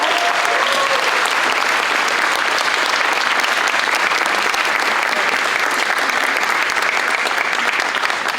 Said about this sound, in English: Can we give our teachers a huge round of applause?